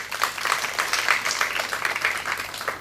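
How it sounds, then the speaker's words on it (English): Applause from the crowd at a primary school graduation ceremony: dense, steady clapping from many hands that fills the whole stretch evenly at moderate loudness. "A very good applause to you."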